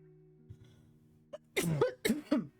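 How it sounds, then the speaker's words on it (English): After a quiet stretch with a faint hum, a person coughs twice in quick succession, close and sharp, with a small throaty sound just before. "I don't know why I coughed like that."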